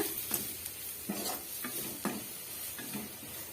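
Colocasia with chilli powder stir-fried over a medium flame, a spatula scraping the pan in repeated strokes over a steady low sizzle, close by with no talk.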